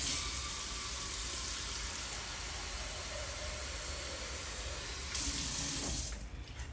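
Tap water runs steadily into a pot in a home kitchen, a continuous close hiss and splash that brightens near the end as the pot fills, then cuts off.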